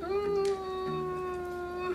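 A cat gives a long, steady meow lasting a couple of seconds, close and fairly clear, with a slight rise in pitch at the start.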